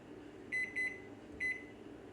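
Three short, high electronic beeps from a kitchen timer set for five minutes, the first two in quick succession and a third after a pause, over quiet room noise.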